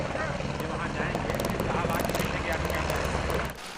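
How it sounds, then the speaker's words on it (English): Helicopter carrying pilgrims passing over a mountain valley, a steady loud rotor roar holding throughout before dropping off abruptly at the end; no talk. "When helicopters carrying pilgrims whiz past"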